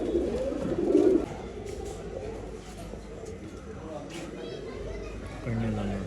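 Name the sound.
pigeons cooing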